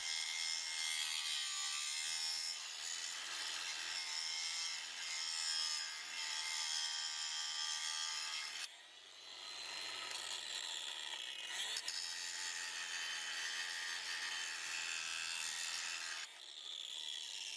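A RIDGID 18V OCTANE brushless 7-inch cordless angle grinder whines at high speed, cuts out briefly, spins up again, then brakes to an abrupt stop; a steady, harsh grinding hiss throughout.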